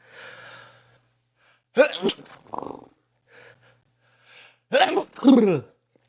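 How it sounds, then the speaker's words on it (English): Two forceful sneezes, each preceded by a sharp inhaled gasp, close and loud, separated by quiet breathing and soft sniffs. "I'm about to sneeze."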